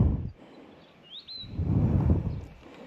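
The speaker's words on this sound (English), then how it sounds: "You can hear the birds." A single bird gives a brief, thin whistling call partway through, faint over a low rumble of wind or distant traffic, outside a historic building in Maldon, Victoria.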